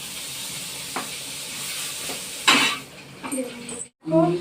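Leftover food from the fridge heating in a pan, with a steady sizzle and hiss, a few stirring scrapes and one louder burst of frying, and someone talking over it.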